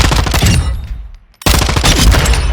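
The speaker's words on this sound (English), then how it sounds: "I'll show you shooting down range here, how easy this thing is to shoot" A RAPP H machine gun fires in a video game, two long, loud automatic bursts split by a short pause, with no talking.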